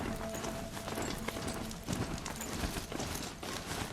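Horse hooves galloping in the video game Horizon Zero Dawn, a steady rapid clip-clop that runs throughout, close and fairly loud over a dense layer of game ambience and music.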